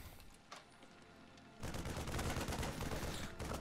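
Marines fire in a real-time strategy video game match, giving dense, continuous rattling bursts that grow sharply louder partway through and keep up a steady crackling barrage with no talk.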